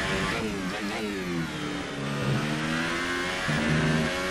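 A Formula 1 racing car engine in the game F1 2018 revs and shifts through gears at high pitch, steady and loud with no talking.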